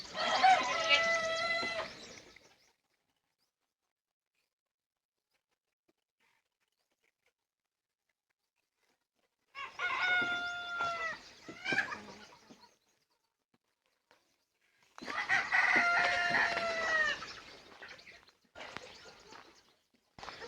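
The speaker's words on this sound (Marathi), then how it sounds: "इकडे किती मोठा कोंबडा आहे त्यांचा" A large native free-range rooster on a poultry farm crows in a few loud, drawn-out calls separated by long quiet gaps, with some harmonic warbling and short trailing notes.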